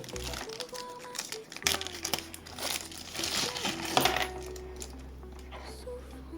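A thin plastic packaging bag from an AliExpress parcel holding an FM radio antenna amplifier crinkles and rustles up close in bursts, with a steady low hum underneath.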